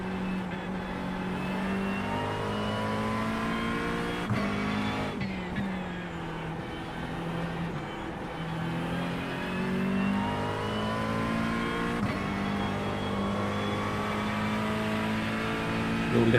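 A race car engine holds a high, steady drone under throttle at Spa in the iRacing sim, rising and dipping slightly through gear changes and corners. It stays loud and continuous throughout, with no talk over it.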